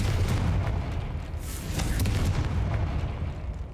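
Confringo fire-blast spell cast in Hogwarts Legacy, a game set in an ancient tomb: dense, continuous low booming rumble with a few brief crackling bursts, loud and close, no talk.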